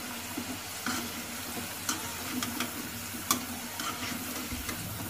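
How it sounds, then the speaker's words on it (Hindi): Potatoes fry in hot oil with a continuous even sizzle, punctuated by occasional sharp ticks and light utensil taps, over a low steady hum. "अभी आलू को फ्राई कर लेते हैं, 2-3 मिनट में फ्राई हो जाएंगे"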